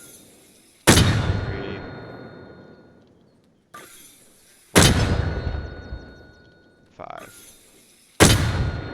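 M252 mortar firing in Arma Reforger, three loud booming launches spaced a few seconds apart, each with a long decaying rumble and ringing tail, with a few brief spoken words between shots.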